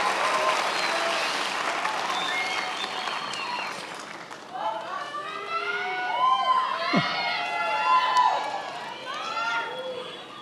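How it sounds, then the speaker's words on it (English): Audience applause for graduates at the University of Houston–Victoria spring graduation ceremony, a steady wash of clapping with scattered cheers and shouts rising in the second half. "Let's give our graduates a final round of applause."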